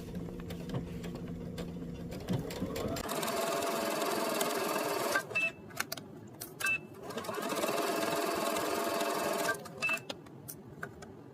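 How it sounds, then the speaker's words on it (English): A sewing machine stitches sundress straps with a 3/8-inch seam allowance in two long, steady whirring runs. Each run is followed by brief clicks and handling noises, and the machine sounds close and moderately loud. "take it to the machine and stitch a 3/8 of an inch seam allowance"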